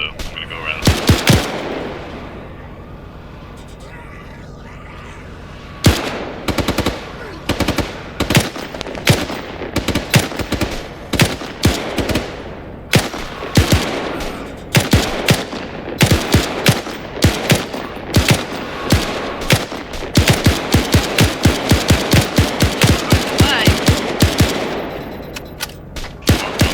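Rapid video game gunfire crackles almost nonstop in loud bursts and long automatic strings, close and dense, with a player talking intermittently over the shooting.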